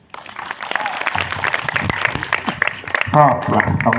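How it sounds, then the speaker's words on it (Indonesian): An audience at a Ramadan Kuliah Dhuha talk claps for an entrepreneur being introduced, scattered applause heard under and between a speaker's amplified voice, with a brief louder vocal moment near the end. "Tepuk tangan, Bu"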